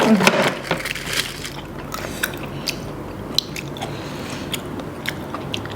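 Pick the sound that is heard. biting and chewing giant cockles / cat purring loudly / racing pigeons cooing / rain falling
biting and chewing giant cockles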